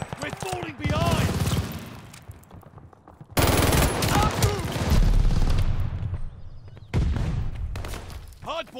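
Bursts of automatic gunfire and overlapping shots in a Call of Duty: Vanguard Hardpoint multiplayer match, loud and close in several dense volleys separated by short lulls, with battle chatter over the top.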